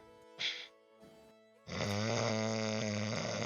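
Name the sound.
loud snoring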